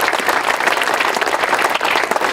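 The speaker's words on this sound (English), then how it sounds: "big round of applause" Guests at the Martha's Vineyard Museum groundbreaking ceremony give a brief, vigorous round of clapping, close and full, lasting a couple of seconds without talk.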